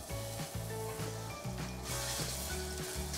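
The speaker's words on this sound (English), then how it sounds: "You take garlic and let it sizzle." Garlic sizzling in hot oil in a pan, a steady close crackle and hiss with occasional utensil scrapes throughout.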